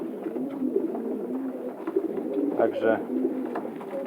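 Racing pigeons bred as long-distance marathon flyers coo softly in a loft, low murmuring calls running under a man's speech throughout.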